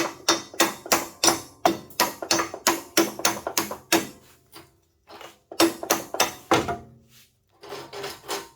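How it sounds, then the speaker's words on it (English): A hammer taps repeatedly on a stuck part of a 1977 Sears 16/6 garden tractor, a quick run of sharp, close strikes, then a pause and a few more scattered knocks. "Maybe if I grabbed like a hammer and tapped on."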